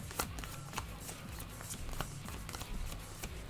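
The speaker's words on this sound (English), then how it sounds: "We'll get to shuffling." Tarot cards being shuffled by hand, a dense run of quick papery riffles and soft taps over low background hum, close and continuous.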